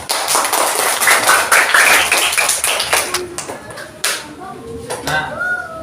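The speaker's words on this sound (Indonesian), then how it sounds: "Ya, tepuk tangan." Schoolchildren in an Indonesian classroom clap their hands together in a loud burst of rapid, dense claps that thins out into scattered claps, with a teacher's voice heard near the end.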